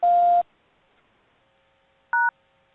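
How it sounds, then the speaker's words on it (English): An office phone voicemail system tone after the greeting: a loud, steady electronic tone, then near silence, then one short two-pitch beep. "Please leave your message after the tone."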